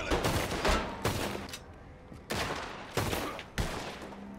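Gunfire in Red Dead Redemption 2 rings out as several heavy separate shots and short bursts, loud and close, with echoing decay between them.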